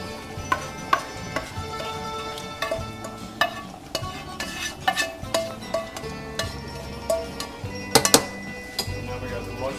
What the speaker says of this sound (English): So now we got the mushroom and onions in there. So we're going to mix these around too.